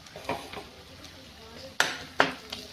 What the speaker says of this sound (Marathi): आता आपल्याला छान परतून घ्यायचंय.